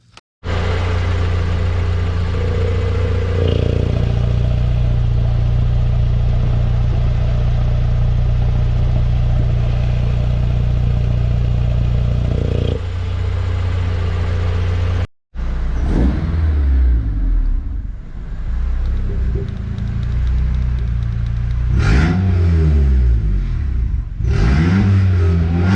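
A K-swapped sleeper car with an electronic exhaust dump starts and settles into a steady, loud idle. After a brief break, it revs hard in repeated sharp bursts that rise and fall up close.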